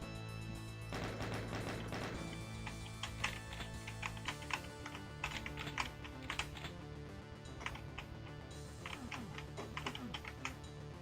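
Rapid keystrokes clatter on a computer keyboard in a dense, continuous burst of clicks, close and steady, with busier flurries of typing throughout and no talking.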